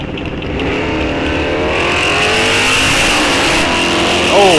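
Drag race cars, including a 1969 Chevelle, launch at Rock Falls Raceway in a loud, close V8 roar that climbs in pitch as they rev and accelerate, swelling a little louder near the end.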